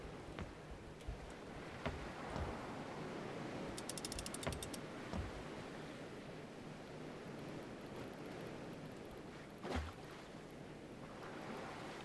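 Sails are lowered on a ship in the game Salt, giving a quick rattling ratchet burst and a few creaking mechanical clicks over a soft, steady wash of ocean waves.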